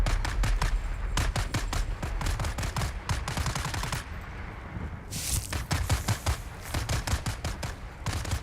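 Rapid automatic gunfire in Dune Awakening, dense repeated bursts of shots continuing throughout with a short pause midway, loud and close, no voices.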